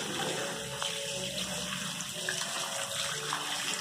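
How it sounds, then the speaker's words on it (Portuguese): Water runs steadily from a tap opened with an elbow into a sink, a continuous full rush at close range with no speech over it. "para abrir a torneira"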